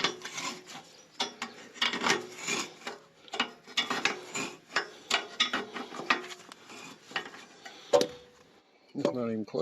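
A wrench turns a nut while a mobile home is being leveled: rhythmic metallic clicking and grinding strokes repeat close by for several seconds, broken by short pauses, with a brief voice near the end.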